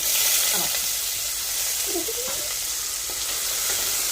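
Ingredients sauté in a mix of coconut oil and ghee for beef biryani, giving an even, close sizzling hiss with light stirring sounds throughout.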